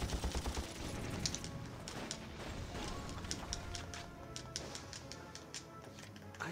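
Rapid gunfire bursts in a role-playing video game, dense overlapping shots in quick rhythmic volleys, fairly faint and continuous without talk.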